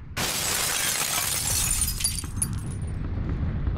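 A loud explosion in the battle royale shooter PUBG bursts out suddenly and roars on for several seconds as a dense, crackling blast with shattering debris, close and alone without talk.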